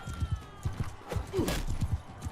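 Horse hooves clip-clop in a steady galloping rhythm in the Bannerlord video game, with a brief whinny partway through and faint battle noise behind.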